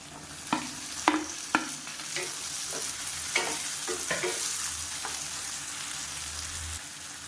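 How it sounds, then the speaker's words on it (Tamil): Finely chopped ripe tomatoes hit a hot pan with garlic and are stirred, giving a steady oily sizzle broken by several sharp spoon-on-pan clacks early on, close and without talk. "இப்போ வந்து நம்ம தக்காளி சேர்த்துக்கலாம்."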